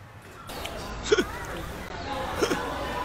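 Two sharp hiccups about a second and a half apart, sounding over a noisy background with faint voices in a comedic meme compilation.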